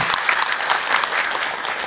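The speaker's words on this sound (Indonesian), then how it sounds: "Boleh tepuk tangan dong buat Ahilman ya, buat kita semua." Audience applause at an Islamic lecture by Ustadz Hilman Fauzi, a dense, steady patter of many hands clapping together, close and loud throughout without a break.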